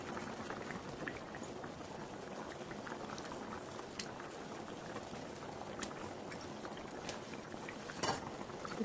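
Korameenu fish curry boils steadily in a pot over a high flame, a continuous close bubbling simmer with a few faint clinks and no talk.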